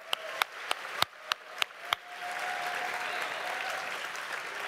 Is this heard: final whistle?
no